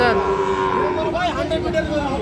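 Sahiwal bull calves at a crowded livestock market low with a drawn-out moo amid constant background chatter and people talking.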